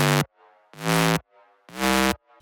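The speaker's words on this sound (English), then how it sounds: "So the main bass is really dirty sounding bass," Dirty, distorted square-wave bass synth patch built in Serum, two octaves down: three loud, sustained buzzy notes with short gaps, played alone.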